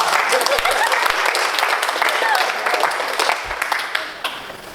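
Steady audience applause fills a motivational talk at a company's first anniversary celebration, continuous and fairly loud, with voices mixed in under the clapping as it tapers slightly at the end.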